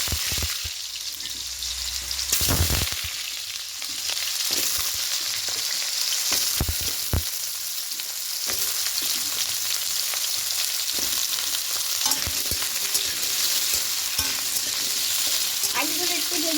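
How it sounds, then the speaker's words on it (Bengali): Potato pieces fry in hot oil for a vegetarian soybean and potato posto dish, giving a continuous dense sizzle with occasional sharp clinks of stirring, close by and without talk. "আলুগুলো একটু ভেজে নেব।"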